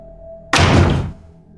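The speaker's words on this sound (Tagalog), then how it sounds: "malakas na sumara ang pinto ng CR sa dulo ng pasilyo" A restroom door at the end of a hallway slams shut in one sudden, heavy thud with a brief booming tail, cutting through an otherwise quiet, faintly humming space.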